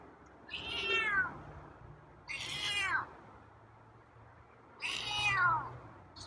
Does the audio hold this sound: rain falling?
no